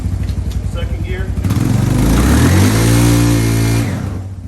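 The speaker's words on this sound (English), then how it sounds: "You hear the engine? That's a slippy clutch." A Suzuki LTZ 250 ATV engine with a slipping clutch revs up hard and holds at high pitch, droning loudly for a few seconds before easing off, with a voice briefly audible at the start.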